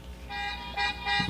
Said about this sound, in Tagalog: Makatitiling ti busina dagita.